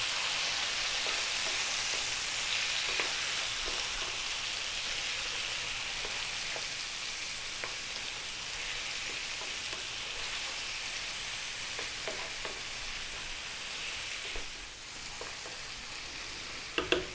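Garlic, cumin and chili powder fry in a pan over lively heat, giving a steady, close, even sizzle for the whole stretch with faint stirring scrapes and no talking.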